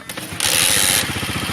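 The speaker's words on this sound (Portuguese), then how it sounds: "Eu vou ligar de novo ele, a moto agora." Dafra Kansas 150 motorcycle starting: a brief mechanical starter whir and hiss catches into a steady, close engine pulse that continues alone.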